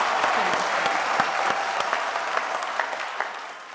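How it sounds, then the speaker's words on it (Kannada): A studio audience at a Kannada TV game show bursts into loud, dense applause that carries steadily for several seconds and tapers slightly toward the end, with no speech over it. "ಸಂಜನಾ ಅವ್ರಿಗೆ ಜೋರ್ ಚಪ್ಪಾಳೆ."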